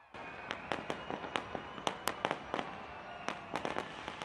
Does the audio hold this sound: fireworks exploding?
yes